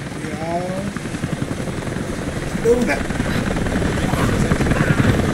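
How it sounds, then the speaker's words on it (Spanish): A helicopter in Rise of the Tomb Raider gives a steady, loud rotor drone. A voice briefly calls out over it, and game effects come and go. "Y aprovechando el helicóptero."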